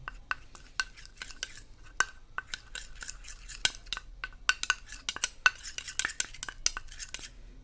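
A spoon stirs a milk-based face paste in a small bowl, making rapid, close, irregular clinks and scrapes against the sides with no talking.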